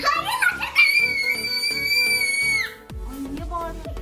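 A young girl screams loudly at home while making pizza with her mother: a shrill, sustained cry lasting about two seconds, followed by lower voices and clatter.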